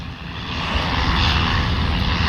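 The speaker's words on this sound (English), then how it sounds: "That's the Embraer Twin Otter" A Twin Otter propeller airplane flies past at a military airfield, its engine drone steady and fairly loud and swelling slightly as it nears.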